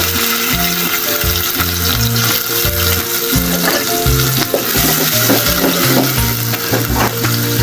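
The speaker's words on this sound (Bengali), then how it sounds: "তেল দিয়ে দিব, পেঁয়াজ দিব" Onions fry in hot oil in a pan for a gourd-and-egg dish, giving a continuous crackling sizzle over a steady rhythmic thumping backdrop.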